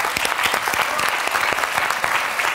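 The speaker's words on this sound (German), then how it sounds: "So, erstmal riesen Applaus." Loud, dense applause fills a live German music show as the audience claps steadily throughout, a continuous crowd roar with no break.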